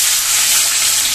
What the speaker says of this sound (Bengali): এবারে আমি ঝুরি আলু ভাজা করব।